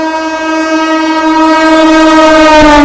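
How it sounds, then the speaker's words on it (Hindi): The Amrit Bharat Express sounds its horn in fog, a loud, close, sustained blare holding steady for nearly three seconds. "ओहो गजब की हॉकिंग।"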